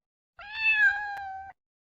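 A single clear cat meow, drawn out for about a second and falling slightly in pitch, heard alone against silence.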